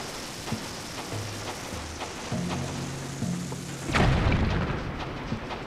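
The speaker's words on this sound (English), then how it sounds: "Next we wanna throw a bomb flower to right there" A bomb flower blows up in Zelda: Skyward Sword HD, a single deep boom bursting out about two-thirds through after quieter crackling game ambience and faint tones, loud and near, no speech.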